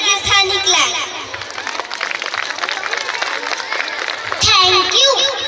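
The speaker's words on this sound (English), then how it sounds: "give yourself a big Rajasthani clap" An audience at a school performance claps and cheers over noisy crowd sound, with children's voices and background music mixed in, swelling louder again near the end.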